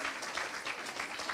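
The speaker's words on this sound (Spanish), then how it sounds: "Aplauden al intendente." Audience applause for the mayor at an inauguration event, a steady patter of clapping with a few swells, moderately distant and fairly quiet.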